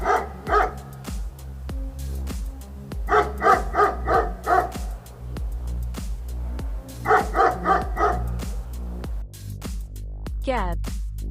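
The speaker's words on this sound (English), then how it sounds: "Dog." A dog barks in quick clustered bursts, three groups spread across the stretch, clear and fairly close over a steady background music bed.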